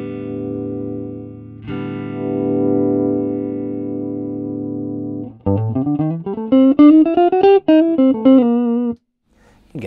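An electric guitar is played through a VS20C amplifier: sustained chords ring out first, then a quick run of single melodic notes picked cleanly and close, followed by a brief silence.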